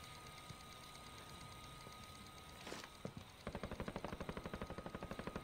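Gunfire rings out in a Call of Duty Warzone duos match: a couple of isolated distant shots, then a sustained rapid burst of automatic fire in a steady rhythm, moderately loud over continuous game ambience.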